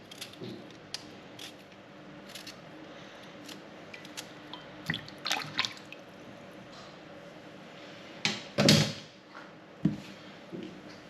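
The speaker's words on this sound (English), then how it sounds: "You've just seen me peeling the potatoes." Potatoes being peeled with a smooth hand peeler for homemade dog food: quiet, irregular scraping and squishing strokes, with a few louder wet scrapes near the end and no talking.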